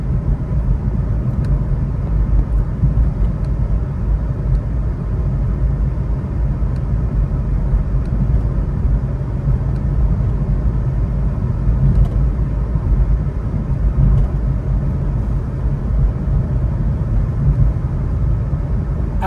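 A BMW i3 electric car cruises on cruise control, heard from the cabin as a steady, loud low road rumble and tyre noise that holds evenly throughout, with no talking.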